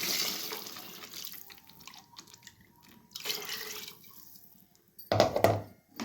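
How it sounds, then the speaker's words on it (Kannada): Water is poured from a glass into a mixer jar that still holds fried masala for mutton sambar, making a splashing gush that comes and goes, with a louder burst near the end. "1-2 ಗ್ಲಾಸಷ್ಟು ನೀರು ಹಾಕಿದ್ದೀನಿ."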